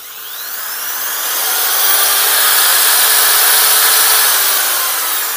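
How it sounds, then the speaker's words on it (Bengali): An electric drill powered by a mini solar inverter whirs in a steady high-pitched motor whine that swells in loudness, then holds near and continuous with no talk. "তো এটাতে কিন্তু ড্রিল মেশিন চললো আপনারা দেখলেন"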